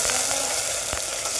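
Soaked chickpeas fry in a garlic tempering in a hot pan, a dense, even sizzle up close with a couple of light utensil knocks, no voices.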